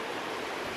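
The right-hand fork of the Logan River rushes past in a steady, broadband wash of flowing water, close and continuous with no voices.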